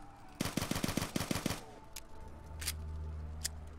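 A burst of about eight quick gunshots in a Black Ops III custom zombies map, fairly close and even-paced, followed by a few isolated sharp shots over a low hum.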